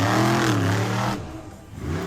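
A Crusheroo monster truck's engine roars loudly at an arena show, revving hard as it builds speed toward a stack of cars, then dipping and surging again near the end.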